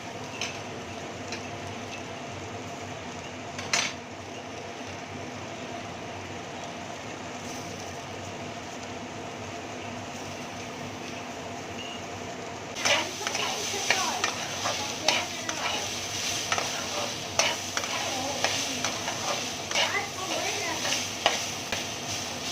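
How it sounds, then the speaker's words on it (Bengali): Snake gourd frying in a pan sizzles steadily at close range, and about halfway through rapid scraping and stirring clatters join in loudly; no voices. "চিচিঙ্গেটা ভালো করে ভাজতে থাকবে।"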